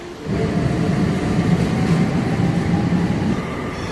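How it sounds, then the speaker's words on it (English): A Porto metro train in motion, heard from inside the carriage: a steady, loud rumble of wheels and motor that swells up after a brief quieter start and holds constant throughout, with no voices. "So finally I'm inside a Porto metro train heading towards the Porto beach side."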